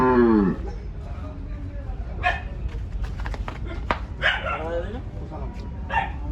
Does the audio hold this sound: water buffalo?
yes